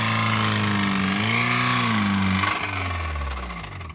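A Honda car engine revs hard and unevenly as it is driven toward seizing, the pitch rising and falling through several surges before fading, loud and near with no talking.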